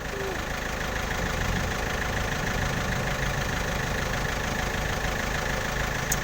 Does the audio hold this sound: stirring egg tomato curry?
no